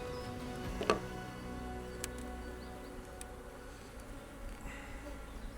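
A low, continuous hum of honeybees buzzing calmly at an open hive during a spring check, soft and steady, with a few faint clicks and taps close by.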